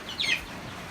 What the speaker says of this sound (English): Just threw up a divider because we have older chickens.